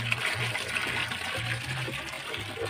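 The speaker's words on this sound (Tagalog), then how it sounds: "lagyan nga natin ng tubig" Water pours steadily into a container, a continuous splashing gush with a faint low hum pulsing underneath.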